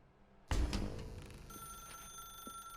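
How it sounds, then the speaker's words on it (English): A telephone in The Stanley Parable video game suddenly starts ringing with a sharp metallic bell burst, then keeps up a steady electronic ringing tone indoors, close and moderately loud with no talking. "Now pick up the phone."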